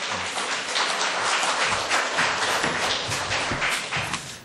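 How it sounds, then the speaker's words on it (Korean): Church congregation applauding during a Sunday worship service, a dense, steady wash of many hands clapping close and loud throughout, with no talking over it. "이 시간 나오실 때 우리가 박수로 환영하도록 하겠습니다."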